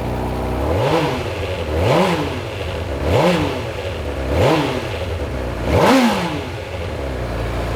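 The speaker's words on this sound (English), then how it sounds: "It's a cold start, so we're just going to give it a few revs." Honda CB1000R motorcycle on its stock exhaust, cold-started and blipped five times at regular intervals, each rev rising sharply then falling back to a steady idle, close and loud with no talk.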